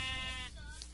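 A single short sheep bleat from Minecraft sounds close and clear, with a wavering voiced tone that breaks off partway through.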